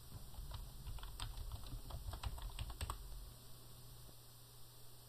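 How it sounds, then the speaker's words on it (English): Someone types on a computer keyboard, giving a quiet, irregular stream of soft key taps that then tail off, heard alone with no voices. "This is just a matter of selecting and typing."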